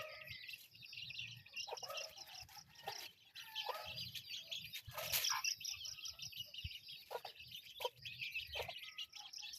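A mother hen and her chicks settling down to sleep together, a faint, continuous cluster of high peeping chirps with occasional soft low clucks, heard from close by in a quiet setting.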